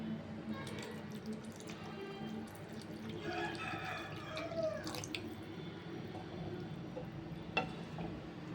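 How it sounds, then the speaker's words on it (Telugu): Water drips and trickles into a pan of taro root curry, a faint wet splashing over a steady low background hum with a sharp tick near the end. "కొంచెం వాటర్ కూడా వేసుకుందాం."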